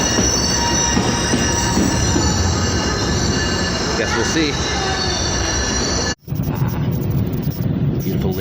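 Aboard a Lakeshore East commuter train, a dense roar of running wheels carries a high, sustained squeal throughout, briefly dropping out near the end before resuming, with a person speaking briefly under the noise.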